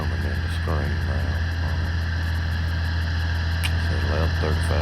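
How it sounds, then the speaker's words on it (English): A Massey Ferguson 1135 tractor pulling a Deutz chamber hay baler runs as a steady, distant engine drone under a constant hum, with faint intermittent clicks and a brief voice. "the tractor and the baler's coming in the screen now"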